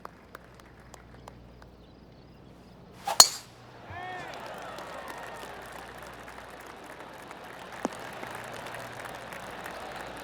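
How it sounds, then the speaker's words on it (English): Gentle golf-clap applause from a small gallery at a PGA Tour 2K23 course, a soft continuous patter after a sharp clink from the tee shot. "Oh, golf clap."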